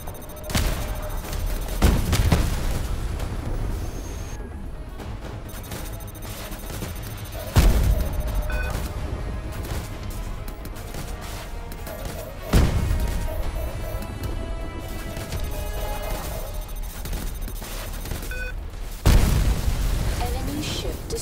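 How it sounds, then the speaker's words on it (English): Heavy booming explosions of enemy spaceships being destroyed in Star Conflict recur every few seconds, each a loud burst fading into a dense roar of weapons fire and engine drone. "Enemy ship destroyed"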